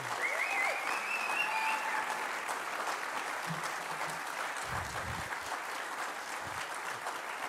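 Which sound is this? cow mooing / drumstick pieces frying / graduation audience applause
graduation audience applause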